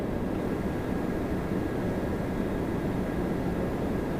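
A WestJet Boeing 737 MAX 8 airliner at Toronto Pearson airport gives off a steady, broad engine roar that holds at an even loudness throughout, with no voices over it.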